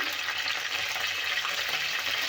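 Whole spices, among them shahjeera, black pepper, cloves and cinnamon, sizzling in hot oil in a clay pot for an egg curry, a steady dense crackling hiss with no voices.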